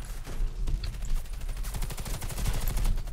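Rapid automatic gunfire from a headshot weapon in the video game Warface, a dense stream of close, loud shots that runs steadily through the whole stretch with no talk over it.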